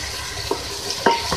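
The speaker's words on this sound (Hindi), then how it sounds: "अब मैं इसमें ऐड करूंगी टमाटर।" Tomatoes dropped into sizzling ginger-garlic masala make a steady frying hiss broken by a few sharp clacks of a spoon against the pan, close and fairly loud, no speech.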